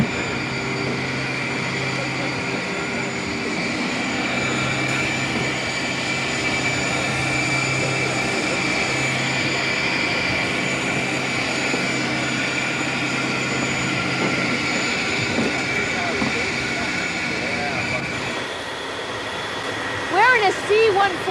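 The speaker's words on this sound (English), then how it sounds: "A C-141 military transport plane." A steady, loud engine drone fills the cabin of a C-141 military transport plane throughout, a constant roaring hum, with a few faint clunks near the end.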